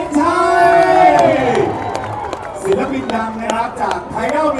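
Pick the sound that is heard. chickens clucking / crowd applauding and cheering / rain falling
crowd applauding and cheering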